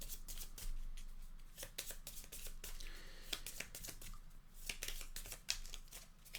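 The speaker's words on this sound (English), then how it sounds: "shuffle the fire deck and the fire deck discard pile back together" Rapid papery riffling of board game cards being shuffled up close, in repeated quick bursts with short pauses between, quiet and dry.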